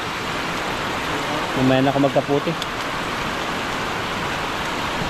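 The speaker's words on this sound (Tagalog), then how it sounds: "Ang lakas na ng ulan." Heavy rain pouring down at an old dam while people fish, a steady, dense hiss that runs throughout, with a person briefly speaking over it partway through.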